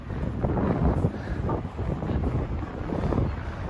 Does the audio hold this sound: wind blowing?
yes